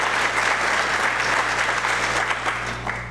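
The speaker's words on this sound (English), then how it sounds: "Give him a round of applause." Audience at a school district leadership retreat gives a steady round of applause, dense and continuous clapping throughout with a faint low hum beneath, tapering slightly at the end.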